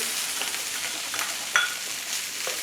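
Onions fry and are stirred in a pan for breakfast tacos, a steady close sizzle with soft scraping stir strokes and a brief clink midway.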